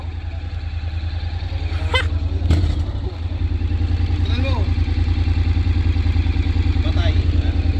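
A Honda ADV750 Special Edition motorcycle idles steadily and close by with an even low throb, while people chat over it and briefly speak.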